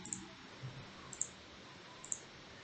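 Several sharp, faint computer mouse clicks come in a sparse irregular pattern, one or two at a time, in a quiet room with no talking.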